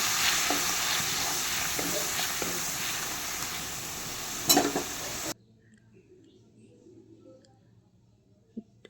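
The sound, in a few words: stirring spices in a pan for pabda fish curry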